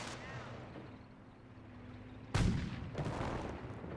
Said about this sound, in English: Booby traps are going off.